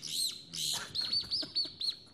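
A hunter's whistle bird call imitating a thrush gives a string of sharp, high chirps and short tweets, about eight quick notes close by with brief gaps, with no voices.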